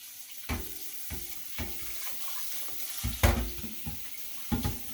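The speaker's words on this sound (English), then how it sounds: "And then I usually rinse it out." A faucet runs while a sink item is rinsed during cleaning with a paste and sponge, giving a soft steady water hiss broken by several splashes and clunks.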